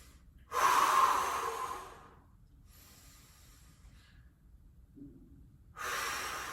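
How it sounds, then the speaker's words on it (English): Deep breathing during a core workout hold: a loud, forceful exhale near the mic, a quieter breath in after a pause, then another strong exhale, with no talk. "Take some deep breaths."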